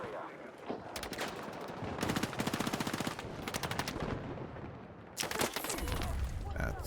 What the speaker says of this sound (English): They're already shooting at me.